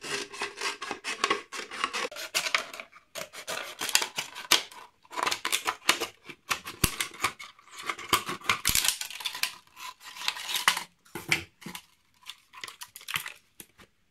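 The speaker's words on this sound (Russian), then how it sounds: "нарезаем ленту от любой другой бутылки с помощью ножниц или бутылкореза" Scissors cutting a strip from a plastic bottle, with repeated close scraping, crackling snips in irregular bursts separated by short pauses, and no voices.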